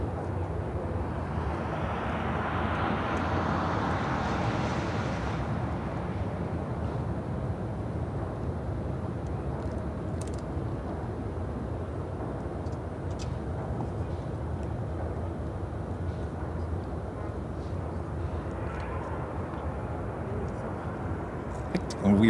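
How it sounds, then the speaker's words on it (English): A Boeing 747-400 at O'Hare Airport gives a broad, loud jet roar that swells early and then settles into a steady rumble, with people talking over it. "I think this flight was a 747-400."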